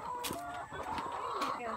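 Hens inside a backyard chicken pen give a busy chorus of close clucks and short squawks, several birds overlapping in an uneven, chattering rhythm.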